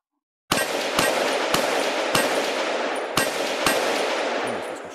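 Rapid AR rifle gunfire in a VR practical shooting game, a fast loud burst of shots with sharp repeated cracks over a sustained roar, heard alone without talk.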